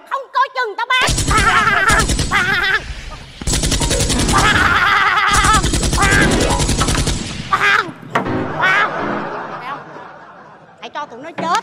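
Toy guns fire in long rapid bursts during a Vietnamese comedy scene, loud and close, broken by short pauses, with people shouting and laughing over the gunfire.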